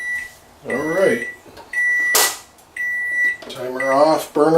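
A kitchen timer gives several sharp electronic beeps at a steady pitch, interrupted by bursts of talking.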